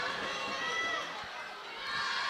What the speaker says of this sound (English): This crowd at Kennett High School getting into this one